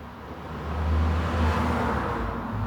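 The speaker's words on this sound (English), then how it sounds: "You'll have heard that car presumably passing at the end of my driveway." A single car passes at the end of a driveway, a soft broadband whoosh that swells and fades over a couple of seconds, fairly distant and alone.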